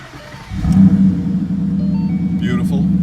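A 2012 Ford Mustang Boss 302 V8 fires up about half a second in, settling into a loud, steady rumbling idle with a brief rev burst near the start, heard up close.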